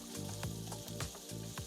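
Butter, diced red onion and speck sizzle in a frying pan, a steady close frying hiss with brief stirring bursts throughout.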